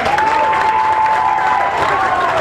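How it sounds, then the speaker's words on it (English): An audience at a small-town talent show claps for the contestants, a loud, continuous wash of applause with a sustained whistle-like tone running through it. "can you please give a warm applause to all of our contestants today?"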